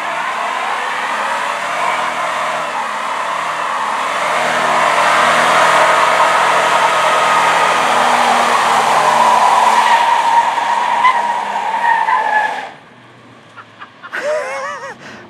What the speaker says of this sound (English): He's going to do a burnout in a shitbox T-Bird.